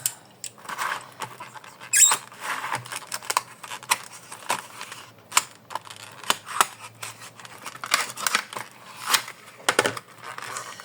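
Purchased kitchen items are unwrapped from their packaging in a run of close, irregular crinkles, rustles and tearing sounds, some louder bursts among quieter handling noises, with no speech.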